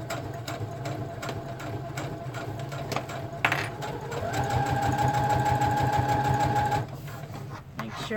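Sewing machine running steadily while stitching a thick fabric cover for a junk trunk kit, its motor whirring close and continuous with a brief pause and a rise in pitch partway through.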